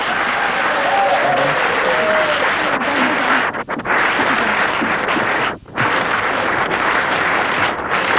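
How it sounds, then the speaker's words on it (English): A studio audience applauds, sustained, dense clapping that fills the room for about eight seconds with a couple of brief dips in intensity. "Give them a round of applause."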